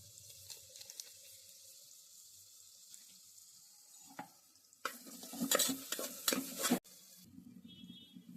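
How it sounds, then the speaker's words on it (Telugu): Toor dal, moong dal and rice stirred together in a pot, giving a burst of wet scraping, clattering stirs after quiet faint background sounds, close and fairly loud, ending abruptly. "ఇప్పుడు మనం వీటిలో కందిపప్పు, పెసరపప్పు అండ్ రైస్ వేసి మళ్ళీ ఒకసారి మిక్స్ చేసుకోవాలి"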